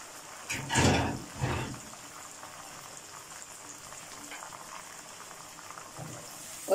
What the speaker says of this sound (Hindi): इसमें चिकन डालेंगे ताकि इसको फ्राई कर लें।